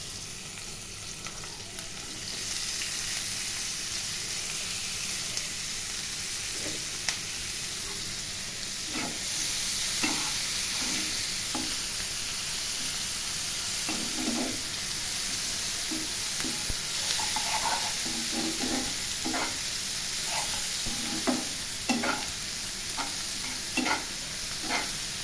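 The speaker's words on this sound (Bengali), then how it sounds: "ভালো করে হালকা লাল লাল করে এগুলোকে ভেজে নিব" Onions frying in hot oil in a pan for a prawn curry, with a steady sizzle broken by scraping stirs and clacks of a spoon that grow more frequent toward the end.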